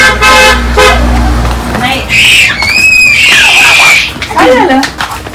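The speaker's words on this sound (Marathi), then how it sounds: "काय रडारडी झाली बघा" A young child crying and screaming at a birthday celebration, loud shrill wails rising and falling over a few seconds, with adult voices and background noise around it.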